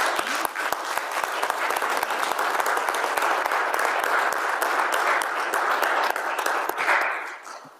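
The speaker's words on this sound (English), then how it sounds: "It's the first time I've ever gotten an applause at a council meeting." A city council meeting audience bursts into applause, with many sharp claps forming a dense, sustained roar that fades out near the end.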